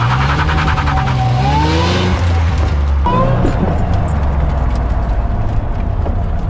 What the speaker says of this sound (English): Still got some wheel hop, but I feel like it's way better.